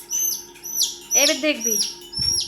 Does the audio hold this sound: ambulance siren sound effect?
no